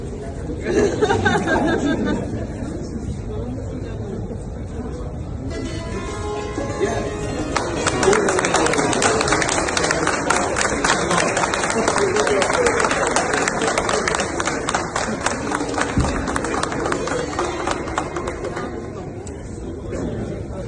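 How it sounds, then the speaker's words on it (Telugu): Diplomats and officials in a hall break into sustained clapping that runs for many seconds, with talk and murmuring mixed in. "హాల్లోని దౌత్యవేత్తలు, అధికారులు అందరూ ఒక్కసారిగా చప్పట్లతో అభినందనలు కురిపించారు"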